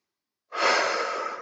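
A single slow, relaxing out breath, an airy exhale that starts abruptly after a moment of silence and holds steady, close and clear.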